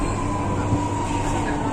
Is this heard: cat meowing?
no